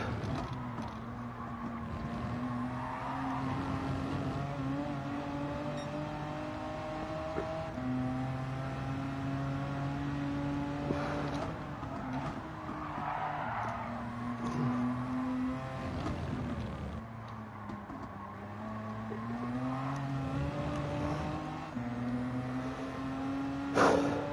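Vauxhall Vectra race car engine in Gran Turismo 7 during a British Touring Car Championship round, a steady droning hum with gear changes lifting and dropping its pitch over about twenty-four seconds, with no talk.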